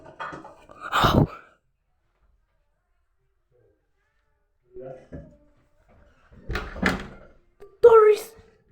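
Bathroom door closing with a few dull thuds spread apart, separated by silence, with brief voices nearby.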